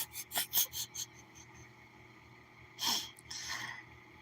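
A voice imitates an angry Donald Duck: a burst of quick, raspy squawking syllables, a pause, then another sputtering outburst.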